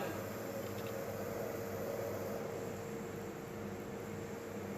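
Home air conditioner fitted with a newly replaced control unit, running on high fan speed; a steady, even broadband hum and whoosh of compressor and blower fills the clip from start to finish, with no talk over it.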